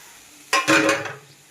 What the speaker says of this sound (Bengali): এবার আমি একটু জল অ্যাড করে দিলাম আর দিয়ে দিলাম ভেজে রাখা চিংড়ি মাছ আর ধনেপাতা